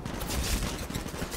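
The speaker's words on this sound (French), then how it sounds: "Concentrons les tirs sur le Red-Eye." Dense, continuous automatic gunfire from the video game Titanfall rattles loudly throughout, with no voice over it.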